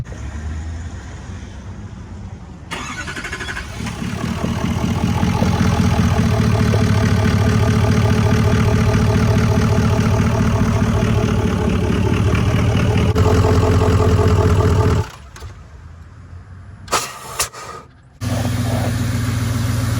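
A Duramax diesel pickup truck, leaking oil after towing a trailer, idles with a loud, steady low rumble that starts after a few seconds and runs evenly, then cuts out briefly near the end before resuming.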